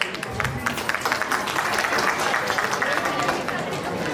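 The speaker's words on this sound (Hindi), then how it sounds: "तो आइए जोरदार तालियों के साथ हमारे तकनीकी परिवार का स्वागत करें" An audience at an Engineer's Day event gives a welcome with a continuous patter of many hands, moderately loud and fairly close, and some crowd chatter mixed in.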